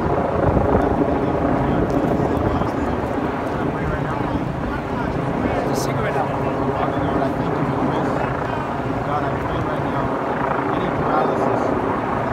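A helicopter drones loudly and continuously overhead, its thumping rotor rumble filling the air with no break.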